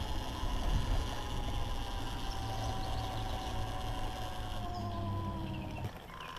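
A 72V BHT Genesis Farfle electric bike with a Lyen 18-FET controller and no chain accelerates up a big hill, its motor giving a steady, continuous whine with a constant rumble underneath, close and fairly even in loudness throughout.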